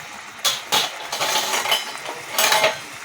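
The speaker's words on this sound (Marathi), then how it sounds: "आता आपण यामध्ये चकली सोडून घ्यायची आहे" Chakli dough drops into hot oil and starts frying, a loud hissing sizzle that bursts in several surges and stays close.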